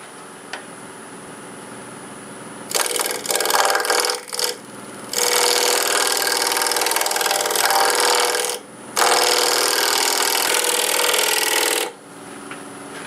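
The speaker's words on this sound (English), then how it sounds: "Might do this with a negative rake scraper." A negative rake scraper shears an ash bowl spinning on a lathe, producing a steady, close, hissing scrape. It comes in three long passes with short breaks, over a constant background motor hum.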